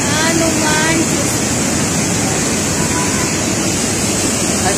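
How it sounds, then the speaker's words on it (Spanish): Waterfall Cascada del Encanto near Martínez, Veracruz, a loud, steady rushing roar of falling water filling the whole stretch with continuous broadband noise. "Ahí está la cascada del Encanto,"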